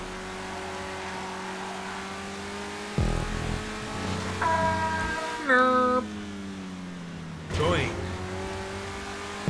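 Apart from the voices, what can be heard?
car driving and drifting in GTA 5 Online video game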